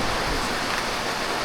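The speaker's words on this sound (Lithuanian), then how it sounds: "žiūriu, grinai šiandien lyja, vat būtent tik čia, vat būtent šitoj vietoj vat lyja" Heavy rain pours down in a dense, steady hiss, close and unbroken, with no voices.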